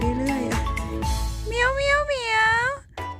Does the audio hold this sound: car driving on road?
no